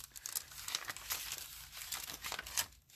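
A crunchy paper envelope holding journal cards crinkles and crackles in close, continuous handling, with sharp rustles and one louder crunch near the end and no talk.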